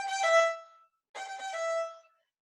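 Fiddle playing a quick triplet figure starting on G: short, quiet bowed notes in two bursts separated by a brief silence, played alone.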